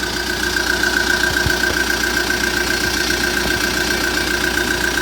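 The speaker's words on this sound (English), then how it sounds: "Let's check the engine. Alright, here's the engine." A Kia Bongo III high-top box van's CRDi diesel engine idles steadily up close, a constant low rumble with a high whine running through it and no voices.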